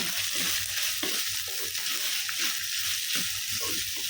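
Continuous oily sizzling of ginger frying in a pan, with rhythmic scraping strokes of a spatula stirring every half second or so.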